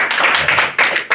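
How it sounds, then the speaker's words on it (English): A comedy-show audience claps in a brief burst, dense applause swelling in several quick waves, loud and close, with no talking over it. "Clap if you like science."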